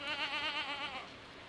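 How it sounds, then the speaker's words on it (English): A goat in Stardew Valley gives a single drawn-out, wavering bleat, loud and close, that fades toward the end with no talk over it. "That's the proper goat noise. But then it also goes bah like a sheep."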